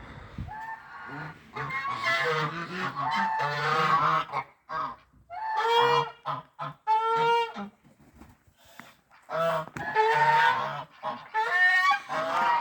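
Geese on snow honk repeatedly in loud, harsh bursts, several birds calling over one another in uneven clusters separated by short pauses, with a couple of softer calls in the gaps.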